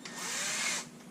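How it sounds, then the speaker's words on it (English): A handheld power drill runs briefly with a 3/16 or 5/32 bit boring a bolt hole for a towel rack, a close steady whine lasting under a second before stopping, then a short click. "I'm going to follow it up with a 3/16 or 5/32 drill bit"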